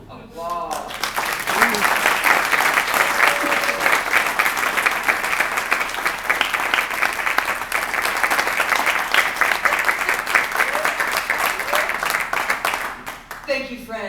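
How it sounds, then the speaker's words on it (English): A theater audience at the Mule Barn Theater breaks into loud, sustained applause, a dense continuous wash of clapping that swells quickly, holds steady for many seconds and then tapers at the end. "Applause."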